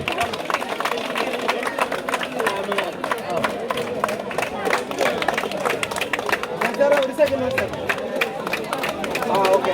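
Steady, dense applause from a crowd at a swimming club inauguration event, continuous hand clapping filling the whole stretch with murmuring voices beneath.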